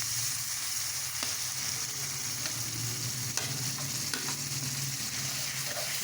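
Minced meat (keema) sizzles steadily in a pan with fried onion and tomato, a continuous hiss broken by a few sharp clicks and scrapes from stirring.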